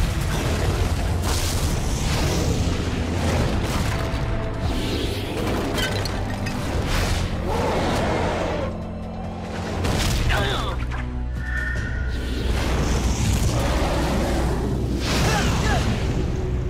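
A cartoon slug combo shot from Slugterra bursts out as a loud, booming energy blast with crashing impacts and a rushing roar, mixed under excited voices and dramatic music.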